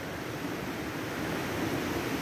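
Mountain stream water running down near Nymph Falls on a river trail, a steady close rushing hiss with no pauses, alone without voices.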